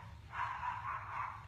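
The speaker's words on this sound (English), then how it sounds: "I don't know if you hear my dogs, but they're announcing themselves" Dogs barking at a distance in a home, faint, with a few muffled overlapping barks across a short stretch.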